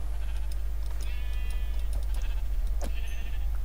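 A sheep bleats in the Minecraft video game, one wavering bleat followed later by a shorter second one, set over a constant loud low hum and scattered clicks, with no talking.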